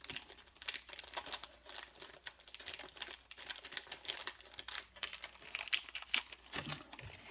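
Plastic packaging on an AEW wrestling action figure pack being opened with scissors, with close, fairly quiet crinkling, rustling and snipping in rapid irregular bursts.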